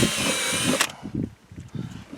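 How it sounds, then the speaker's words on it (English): A power drill whines loudly as it bores a hole to mount a Kemimoto fender flare on a Polaris RZR KRX side-by-side, then stops abruptly, leaving faint handling sounds and low thumps. "and then drill the hole."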